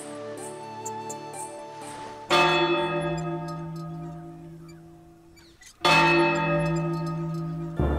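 Church bells ring for Sunday mass in loud, sustained peals with long ringing overtones. A strike near the start decays, then two fresh loud strikes follow, each swelling and fading into a lingering hum.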